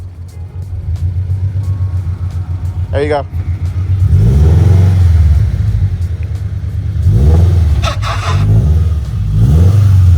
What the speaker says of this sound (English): Wait for this car.